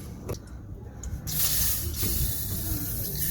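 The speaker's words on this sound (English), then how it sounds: "Plenty of WD-40 on it." WD-40 sprayed onto the hand brake cable of a Vauxhall Opel Astra, a short hiss at first, then a longer steady aerosol spray hissing close up over a low background rumble, with no talk.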